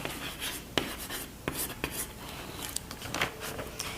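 A pen or marker writes on a board during a maths lesson on sets, with a few sharp taps and light scratchy strokes spread across a quiet room, no talking.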